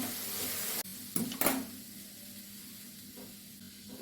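Okra stir-fry with curry leaves being stirred in a pan, with a soft steady sizzle and a few brief clattering scrapes of the spoon near the start, then an even, quiet frying hiss.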